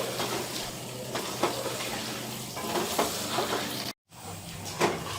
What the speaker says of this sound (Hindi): इसको आप 6 से 7 मिनट के लिए फ्राई करेंगे।